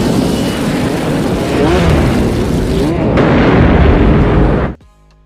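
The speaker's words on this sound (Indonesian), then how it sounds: "Terjadilah ledakan yang luar biasa menyebabkan pom bensin tersebut hangus total." A gas station explosion in a Robocop film: a loud, sustained roaring blast with rumbling debris that rolls on for several seconds, then cuts off abruptly into near silence.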